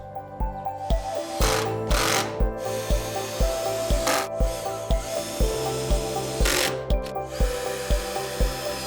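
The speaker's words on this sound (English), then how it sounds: "Now we're going to fix our supporting edge using 30mm wood screws." Wood screws, 30mm long, driven into a wooden supporting edge while building a dolly trolley, with a steady run of close knocking and grinding ticks from the driver and a few louder bursts of power-tool whine.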